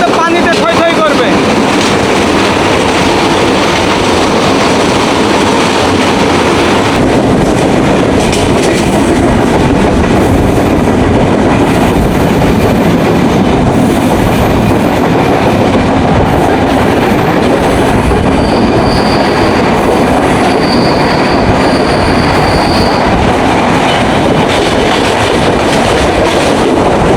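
The Bonolota Express, a luxury nonstop train to Rajshahi, runs loud and steady on the rails with continuous clickety-clack, rumble and occasional wheel squeal, heard close from inside a carriage.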